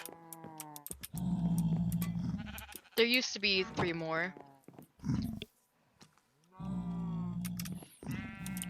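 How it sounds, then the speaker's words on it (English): Sheep bleat loudly in Minecraft at a player's ranch base, several drawn-out calls mixed with someone talking over and between them. "There's 2 sheep."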